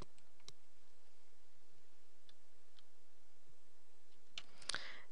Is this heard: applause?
no